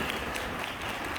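A church congregation at a Christmas service claps in applause, a brief wash of dense, fairly faint clapping with no voices over it.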